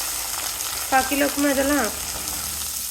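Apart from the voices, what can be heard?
onions and vegetables frying in oil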